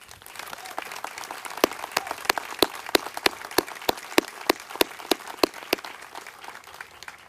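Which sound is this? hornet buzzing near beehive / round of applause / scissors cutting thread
round of applause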